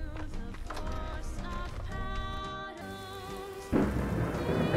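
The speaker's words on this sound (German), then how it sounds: "Und es regnet wieder." Rain pattering in the Fallout London game, with rumbling thunder under a layered game soundtrack of tones and ambience, the downpour growing louder and denser near the end.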